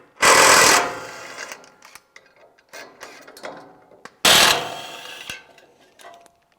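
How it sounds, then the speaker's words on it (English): A 17mm socket on a ratchet works loose the bumper end caps of a third-generation Toyota Tacoma. Two loud, harsh bursts of rapid clicking come up close, with quieter handling and tool clatter in between. "we're going to use a 17mm socket to pull these end caps off"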